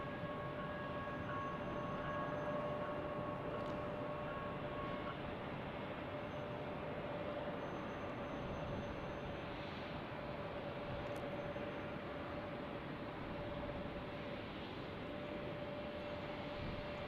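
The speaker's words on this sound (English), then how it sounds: "we got an arrival on runway 35" A distant airplane arriving on runway 35 at Salt Lake City airport rumbles as a broad, steady, moderately faint roar that continues throughout, with no talk.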